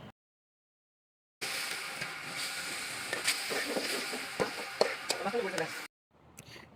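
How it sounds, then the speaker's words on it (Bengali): A paste of chili powder and garlic fries in oil on a clay stove, giving a steady sizzling hiss with scattered crackles and pops for about four seconds, bracketed by near silence. "এরপরে মশলাটা আরেকটু তেলে ভেজে দিয়ে দিলাম"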